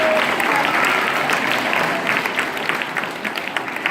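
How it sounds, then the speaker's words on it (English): A crowd applauds award recipients at a school awards ceremony, steady clapping filling the room for a few seconds before thinning slightly toward the end, with faint voices mixed in. "All right, give a round of applause."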